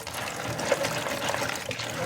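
Peanuts being washed in water, a continuous close splashing and running-water wash that holds steady for a couple of seconds.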